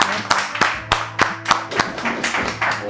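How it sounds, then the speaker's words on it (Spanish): Audience clapping at a talk show, several loud, distinct claps in a loose, uneven rhythm rather than full applause, with some tonal room sound underneath. "Un aplauso."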